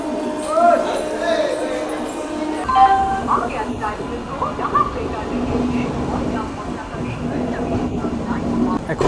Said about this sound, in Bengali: আর খড়গপুর থেকে ট্রেনটা এইমাত্র ছাড়লো